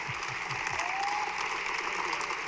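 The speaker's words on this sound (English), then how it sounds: "Big round of applause" Crowd at a physical education conference applauds in a steady, moderate wash of clapping, with a few low voiced sounds in the room at the start.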